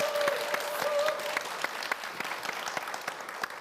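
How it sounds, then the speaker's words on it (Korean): Applause from a church congregation for a woman giving testimony, starting strong and slowly thinning into scattered, distinct claps, with a brief whistle-like tone near the start. "다시 한번 박수 부탁드리겠습니다"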